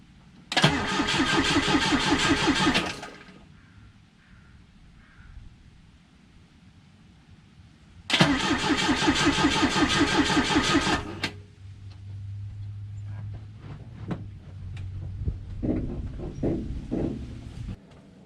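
A Volvo B20 engine cranks over on the starter without fuel, never firing. There are two loud, rhythmic cranking bursts of about three seconds each, separated by a pause, followed by a quieter mechanical hum with clicks.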